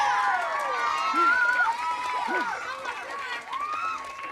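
Children and adults cheer and whoop together at an elementary school groundbreaking ceremony, a loud sustained burst of excited high voices with shrieks rising and falling throughout.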